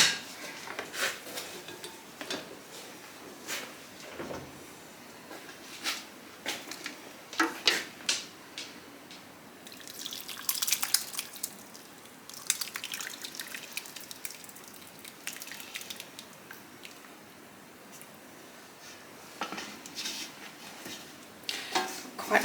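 Fruit pulp is pressed and strained in a pan to draw out juice, with scattered clinks, scrapes and wet dripping in an irregular pattern, close and quiet, with busier bursts now and then.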